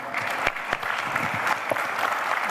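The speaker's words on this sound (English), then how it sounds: "A warm round of applause," Audience applause after a panel discussion, a dense steady round of clapping from a crowd that holds for the whole stretch with a few sharper individual claps standing out.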